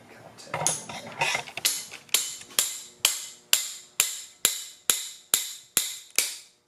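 A steady series of sharp metallic strikes from a regular hammer on an engine part, about two per second, ringing against metal, close and loud with no talking.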